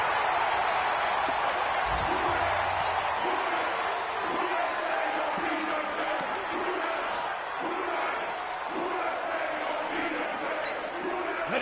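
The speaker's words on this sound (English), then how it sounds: "The crowd here in the Dome making things difficult." Dense stadium crowd roar fills a domed arena in an American football video game, loud and steady throughout with scattered sharper thuds and shouts mixed in.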